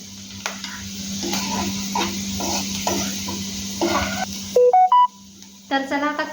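Onions sautéing in a kadhai for a Maharashtrian chicken dish give a steady sizzle with scraping stirs, then several short electronic beeps near the end.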